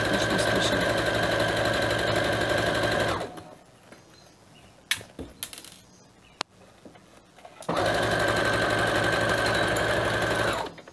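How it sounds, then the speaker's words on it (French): A sewing machine stitching piping onto fabric, running in two loud steady buzzing bursts with a quiet pause of small handling noises between them. "Et je vais coudre dans la rainure."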